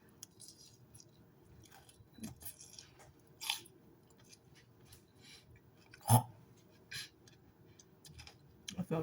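Crunchy bites of a Caesar salad being chewed close up, heard as a few sharp, irregular crunches over a quiet background.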